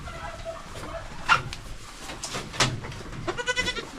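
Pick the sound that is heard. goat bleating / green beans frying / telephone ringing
goat bleating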